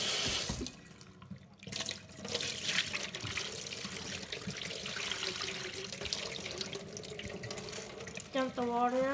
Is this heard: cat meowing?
no